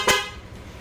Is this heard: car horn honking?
yes